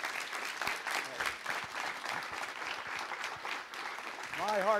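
Audience at a Las Vegas city council ceremonial meeting applauding, a steady wash of clapping from a crowd with voices talking over it throughout.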